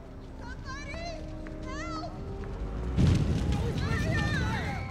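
A large practical fire explosion effect on the set of Spider-Man 2 bursts in with a deep whoosh and roaring rumble that swells midway, following children's voices and whistling tones over steady background noise.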